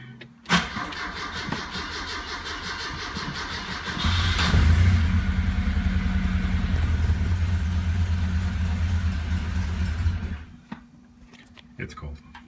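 A 1974 Alfa Romeo Spider engine turns over on a cold start and settles into a steady, droning idle for several seconds before cutting off, close by, with a voice speaking faintly around it.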